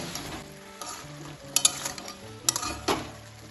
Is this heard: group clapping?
no